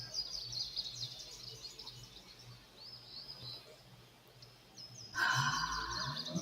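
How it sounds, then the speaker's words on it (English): Birds chirping and singing outdoors in the morning, faint high twittering calls over a quiet background, with a louder burst of song near the end. "Listen to those birds chirping away their songs of praise."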